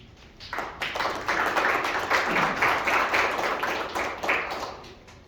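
Audience applause at a city press event on the homeless crisis, a steady burst of hand clapping that swells quickly, holds for a few seconds, then tapers off near the end.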